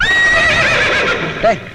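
A horse whinnies loudly and close up in a long shrill neigh that wavers and fades, followed by a shorter, quieter second whinny near the end.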